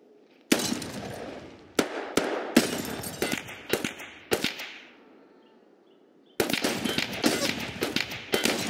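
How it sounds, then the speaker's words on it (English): Gunfire in Escape From Tarkov, a burst of sharp close shots with a short rapid run, then a lull before a dense stretch of rapid automatic fire at the end. "How are you shooting me?"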